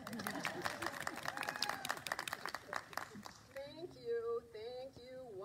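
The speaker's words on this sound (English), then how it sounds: "Please don't clap. Okay, clap." A church congregation at a Lutheran worship service claps in a brief burst of applause, sharp claps for a few seconds before a voice speaks alone.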